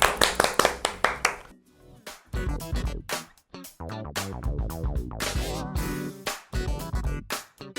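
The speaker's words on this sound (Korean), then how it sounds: "박수 치면서 넘어가겠습니다" A quick run of sharp hand claps opens a Korean travel talk show segment about Guam, then gives way to bright, rhythmic background music with more percussive hits.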